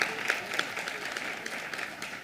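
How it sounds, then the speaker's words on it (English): Audience clapping at a Tri Alpha honor society induction ceremony, moderate and fairly even with scattered sharper claps, sounding a bit distant in a hall and continuing throughout. "Go ahead and clap for her anyway"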